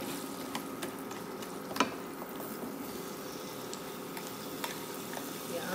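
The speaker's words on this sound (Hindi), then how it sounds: "आम चला गया, बस इसको थोड़ा सा पका के अच्छी तरह से मिला के" Quiet sizzle and soft scraping as mango pieces cook and get stirred with brown sugar for an instant mango pickle, with a few light clinks of the spoon against the pan.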